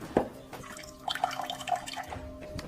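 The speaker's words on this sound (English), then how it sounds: "This is our cold water pressure in the kitchen." Cold water runs from a kitchen faucet in a thin, trickling stream, with scattered drips and splashes. It is faint and close, with no talking.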